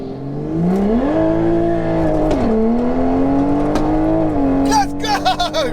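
A Stage 3 760hp Toyota Supra launches hard down a drag strip, engine revving loud and rising steadily through the gears with shifts between, tires spinning, a brief squeal of tire noise near the end.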